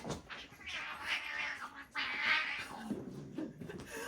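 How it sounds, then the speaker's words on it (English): House cats fighting indoors, with yowling and caterwauling that rise and fall in strained bursts, heard on their own without talk. "My cats are fighting."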